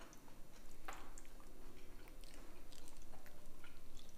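A 16-month-old baby chews crunchy homemade pizza up close, with soft, steady wet munching and biting sounds and no talking.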